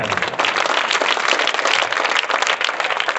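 A classroom of children claps loudly for a classmate who answered a quiz question, a dense, steady burst of many small hands close by that continues without pause.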